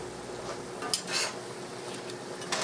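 A gravy mixture for a venison meat sauce is stirred in a pan: a quiet background sizzle with a few sharp scrapes and clinks of a utensil against the cookware, no voices.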